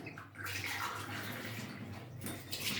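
Water pours steadily into a cup, a close, continuous rushing and splashing that lasts the whole short moment, with no voices heard.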